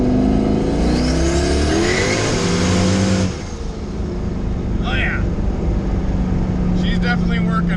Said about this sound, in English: It actually lights the tires up now in second.